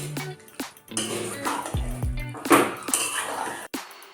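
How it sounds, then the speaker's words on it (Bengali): A utensil stirs fish in a metal cooking pot, giving repeated close scraping knocks and clinks of metal on metal at an irregular pace, with faint sizzling between strikes. "মাছটা নাড়িয়ে দিচ্ছি।"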